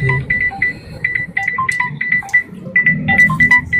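A phone rings with a melodic electronic ringtone, a quick run of bright repeated beeps shifting between a few pitches, fairly loud and steady over a low background hum.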